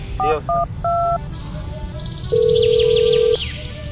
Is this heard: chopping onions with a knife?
no